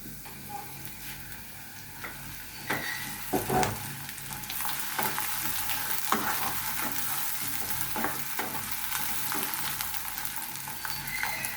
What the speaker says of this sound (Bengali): পেঁয়াজটা ভাজতে থাকবো যত টাইম পর্যন্ত বাদামি রঙটা না আসে,